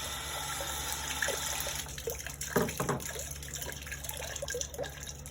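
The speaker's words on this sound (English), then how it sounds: "Now we're going to take that and wash that off." Jars for bread and butter pickles get washed under a running kitchen tap, a steady close stream of water with splashes and clinks from handling.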